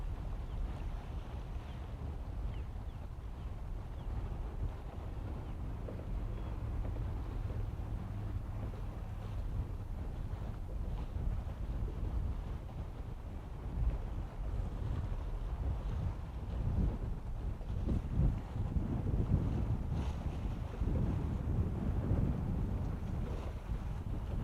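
A SpaceX Falcon 9 launch carrying Starlink satellites on Florida's Space Coast sends a distant, low rumble that slowly swells toward the end, mixed with steady wind buffeting the microphone.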